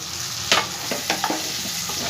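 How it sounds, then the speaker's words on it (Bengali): Fried potatoes tipped into hot oil and spice paste for a papad curry, giving a sudden sizzle followed by a few brief stirring scrapes over a steady frying hiss. "এই পর্যায়ে আমি ভেজে রাখা আলুগুলো সব দিয়ে দেবো"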